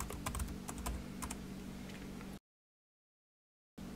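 Password being typed on a computer keyboard during a software install: a quick run of light, close key clicks over a low steady hum, then a clean break to silence before the hum returns.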